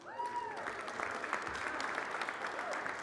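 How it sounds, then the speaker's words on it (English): Audience applause at a live winter speaker series event at Palisades Tahoe, a steady spread of clapping that fills the room, with a voice briefly audible over it. "Please give it up for them."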